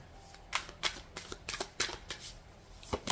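A deck of cards is shuffled by hand, a quick run of crisp riffling bursts in an irregular rhythm, close and fairly quiet, heard alone without talk, as during a tarot or oracle card reading.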